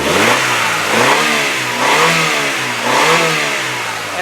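A low-mileage purple 1998 Honda Accord engine revs hard, loud and close, in about four rising-and-falling surges over a steady idle, with no talking.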